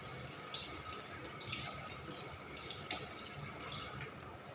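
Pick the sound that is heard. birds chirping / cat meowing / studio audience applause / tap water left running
tap water left running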